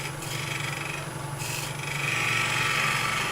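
Wood shavings are tidied off a turned wooden box on a spinning lathe, a close, steady rubbing and scraping over the low hum of the machine, with no talk.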